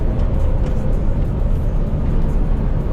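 A truck rolls steadily along the road, with a constant low rumble of engine and tyre noise and no voices.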